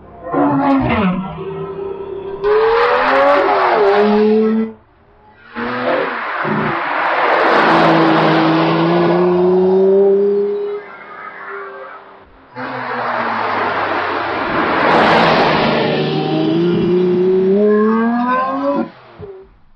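A 2008 Lamborghini Reventon supercar engine revs while driving on the road: three loud surges with rising pitch, separated by brief lulls, heard up close with no talk.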